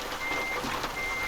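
Reversing beeps from a truck in Euro Truck Simulator 2, a steady repeating electronic tone over engine rumble and road noise.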